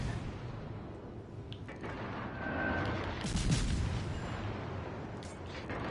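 German destroyer guns firing in the naval battle game World of Warships Legends, heard as low, rumbling booms swelling and fading over steady engine and sea ambience, fairly faint, with no voices.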